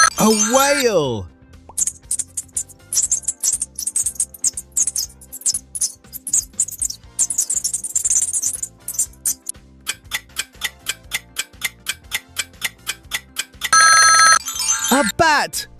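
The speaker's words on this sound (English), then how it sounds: "A bat." A bat gives rapid, high-pitched clicks and chirps in dense bursts after a short sweeping tone, followed by regular ticking and a bright chime.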